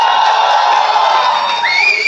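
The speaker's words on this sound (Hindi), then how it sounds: "एक बार जोरदार तालियां दीपिका के लिए." A loud crowd roaring and cheering for Deepika at a Mumbai film press meet, a continuous wall of shouts and whoops with a rising whistle near the end, though clapping is hard to pick out.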